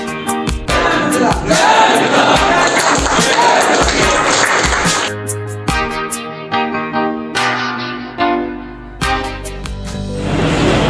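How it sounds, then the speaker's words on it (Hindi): Dense crowd noise inside a Delhi metro station and train near Laxmi Nagar, a loud jumble of many voices with clatter and bursts of movement, then a short rumble and scattered announcements or chatter. "बहुत ज़्यादा भीड़ है।"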